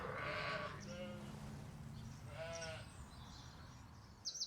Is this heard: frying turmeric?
no